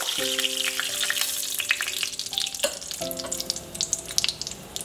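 Crushed cardamom pods fry in hot oil as a tempering for festival pulao, crackling and spitting steadily up close while a few sustained clear tones ring out behind the frying.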